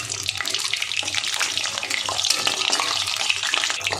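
Paneer pasanda pieces frying in a pan, two at a time, with a steady broadband crackle and hiss of hot oil that runs continuously and close throughout, with no talking.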